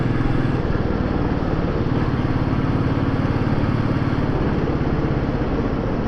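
A Royal Enfield Meteor motorcycle engine runs at a steady idle, and its exhaust gives a loud, even, thumping pulse that holds without change from start to end.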